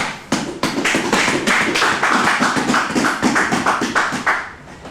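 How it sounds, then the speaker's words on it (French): A church congregation applauding together, steady rhythmic clapping from many hands that rises quickly and keeps up a strong pulse before fading at the end. "Applaudissons pour le Seigneur."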